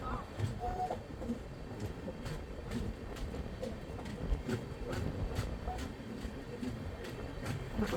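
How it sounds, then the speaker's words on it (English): A train departing Bhandara Road Station rumbles steadily with rhythmic clacking of wheels over rail joints, a continuous low roar throughout, close by; heard from inside a 3AC coach of the Vidarbha Express. "That was our train's departure from Bhandara Road Station."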